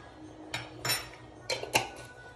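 A spoon stirring Swahili pilau in a metal cooking pot, making a few sparse clinks and scrapes against the pot at close range, with no talk.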